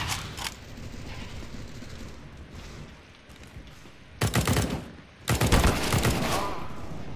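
A quiet low rumble from Counter-Strike: Global Offensive breaks into two loud, close bursts of rapid automatic gunfire, with a single sharp shot near the start.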